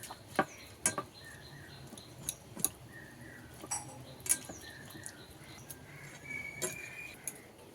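A knife scrapes the black skin off a fish, quiet irregular scratches and clicks spaced a second or so apart, close and faint, with no talk.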